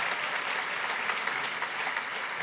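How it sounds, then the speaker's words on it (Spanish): Conference audience applause: a dense, even wash of many hands clapping together, fairly loud and sustained through the whole moment, with no speech over it. "Así que nuevamente le brindamos un fuerte aplauso a José María Sanabria."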